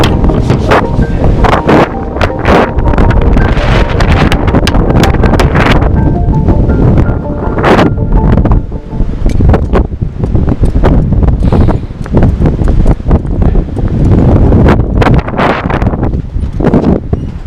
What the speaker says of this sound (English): There's a strong wind gust.